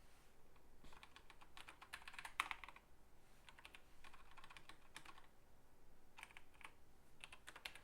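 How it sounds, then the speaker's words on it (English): Bursts of typing on a computer keyboard, quiet and close, with rapid clustered key clicks separated by short pauses and no talking. "No sense typing more than we need to."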